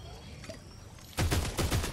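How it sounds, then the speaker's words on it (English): Quiet ambient game sound in the battle royale game Fortnite, then a sudden volley of loud, rapid gunshots in quick succession, close and punchy, filling the last second. "No! Stop shooting!"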